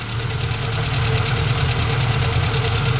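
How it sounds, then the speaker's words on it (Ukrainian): A VAZ 2109 car engine idles steadily, a loud, even low rumble with a faint rhythmic knock and no change in pace. "двигун працює на холостих"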